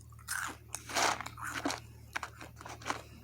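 Crunchy Chex Mix being chewed close up, with loud crunching bites at first and then a series of quieter, irregular chews, over a low steady hum.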